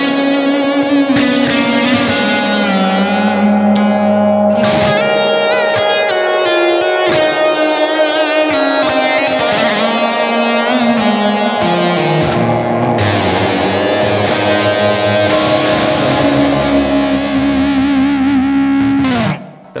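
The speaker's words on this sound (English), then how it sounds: "there's a cool freeze function on the reverb. So you can hold it down and it'll actually freeze the notes." Distorted electric guitar through a Blackstar AMPED 2 pedal, its reverb freeze held by foot: chords ring out and sustain as frozen, shimmering reverb layers, with new notes stacking over a held, droning wash.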